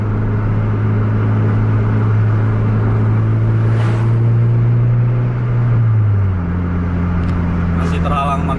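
A Scania K410 bus engine drones loud and close during a night bus race on New Year's Eve 2024, a steady low hum that drops in pitch near the end, with voices talking over it.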